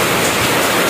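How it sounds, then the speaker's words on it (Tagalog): Heavy rain pours on a farm, a loud, dense roaring hiss that fills the whole moment without a break. "grabe itong ulan na to"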